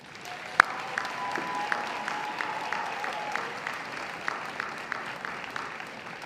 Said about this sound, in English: would you please give the parents and the families and friends gathered here today a round of applause